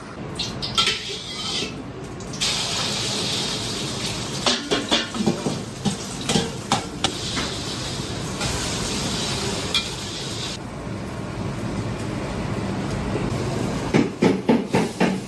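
Chopped ingredients frying for a Chinese Muslim iftar meal, with a steady loud hiss of oil and repeated clatters of a metal spatula scraping and knocking the pan throughout, no talking.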